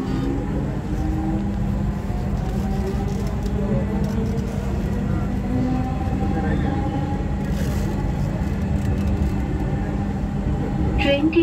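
Dhaka metro train running toward Uttara North near Farmgate, a steady low mechanical rumble and hum with faint whining tones, heard from inside the car, with announcement-like voices over it.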